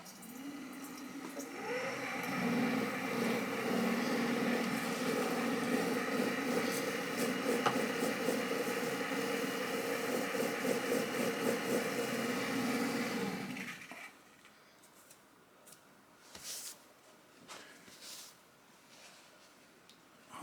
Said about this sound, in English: I'm gonna turn the wheel on.